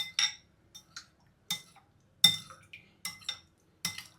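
A metal spoon clinks against a glass while stirring a morning drink of honey and other ingredients, giving a series of bright, irregular taps and scrapes in short bursts with quiet gaps between them.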